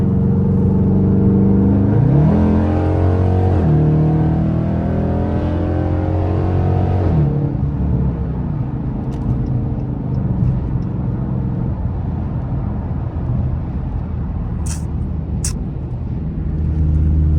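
A straight-piped 5.7 engine with gutted catalytic converters drones loud and steady at highway speed, with a rising rev and shift in the first seven seconds, then a constant rumble of exhaust and road noise.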